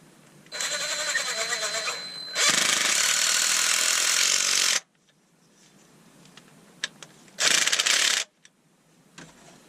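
Loud grinding, whirring machine bursts with ratcheting texture start and stop as a threaded collar is screwed in on a woodturned bottle opener, separated by quieter stretches of small clicks and handling noise.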